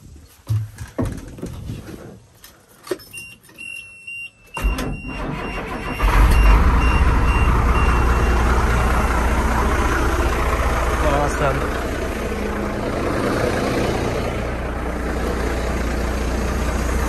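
A dump truck started with a portable jump pack: sparse sounds and a voice at first, then the engine catches and settles into a loud, steady diesel idle, with a high beeping tone heard before the start.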